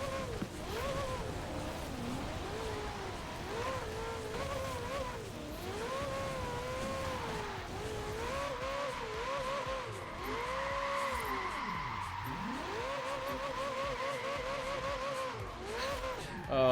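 A car in Forza Horizon 4 drifts through turns, its engine rising and falling in pitch with long wavering tire squeals as gears shift, steady and continuous with a voice speaking at times.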